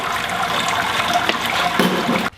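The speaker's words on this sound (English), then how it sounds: "I'm going to let this drain out" Steady rushing and trickling of liquid draining out of a beer brewing mash, close and continuous, cutting off abruptly near the end.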